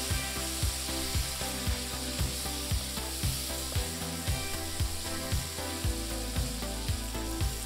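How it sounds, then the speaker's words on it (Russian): Chicken pieces fry over high heat in two to three tablespoons of vegetable oil while being stirred regularly, giving a steady close sizzle with periodic stirring taps over a constant tonal background. "добавляем примерно 2-3 столовые ложки растительного масла и кладем жариться курицу"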